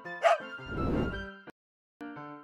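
A cartoon dog in a game-themed animated show gives a couple of short high yipping barks, close and fairly loud, with brief whimpering between them.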